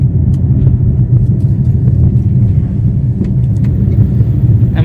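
An oncoming vehicle, an ambulance, rumbles steadily nearby on a road at night, its engine drone loud and continuous throughout, with no voices.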